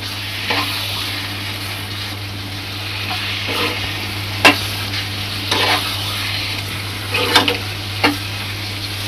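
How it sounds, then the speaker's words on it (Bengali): A bottle gourd and shrimp curry with coriander is stirred in a hot pan: a constant close sizzle over a low hum, with several sharp scraping strokes of the spoon against the pan, no speech. "ভালো করে মিক্স করে দেব।"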